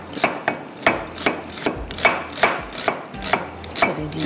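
Onions being finely chopped with a knife on a board, about a dozen crisp even knocks in a steady rhythm, close and clear with no talking.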